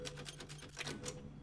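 Typewriter save sound from the Resident Evil Village video game: a rapid run of crisp, evenly spaced key clacks over a steady low hum, close and moderately loud with no voices.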